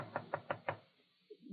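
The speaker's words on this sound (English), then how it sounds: "went up to Connecticut and knocked on the door of Holiday Inn" Four evenly spaced knocks on a hotel door, crisp and close, followed by a quiet pause and a faint thump.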